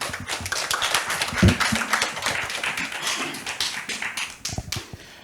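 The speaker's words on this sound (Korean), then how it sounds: "큰 박수로 맞이해 주시기 바랍니다." A small audience at a lifelong-learning forum in Gwangmyeong, Korea claps unevenly, a loose patter of separate hand claps that welcomes the talk-concert host and thins out toward the end.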